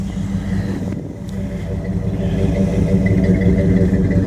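A 1929 Chrysler car's engine runs as it drives down the block, a low, steady rumble with a faint rattle that grows a little louder toward the end.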